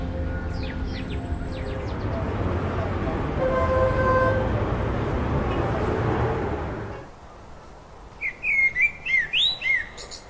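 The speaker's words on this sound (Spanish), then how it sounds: "el sonido de un bosque" Woodland ambience with a dense, steady bed of rustling and distant noise beneath scattered bird chirps and a few sustained tonal calls, then a sudden drop to quieter air where a cluster of bright, close chirps rises in a quick series.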